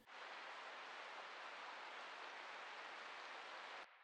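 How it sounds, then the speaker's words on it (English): Steady rain ambience laid into a mellow lo-fi beat, a dense even hiss holding at a constant level for about four seconds before cutting off abruptly. "First ambient sound that I added was this rain noise."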